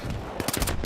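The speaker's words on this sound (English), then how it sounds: "some pointless pistol shooting there for the end" Pistol shots in the Battlefield 3 video game, a quick run of several loud cracks in the second half of a brief burst, coming after a steady bed of game noise.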